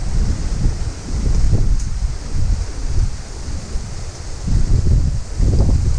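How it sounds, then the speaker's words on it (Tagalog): Strong gusts rumble and swell against the microphone in heavy, uneven waves, with a faint hiss above the low roar. "ang lakas ng hangin pa naman dito"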